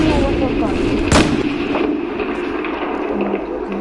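Battlefield 4 gameplay carries a loud heavy blast with a rumbling tail, followed by sustained low rumbling of ongoing combat.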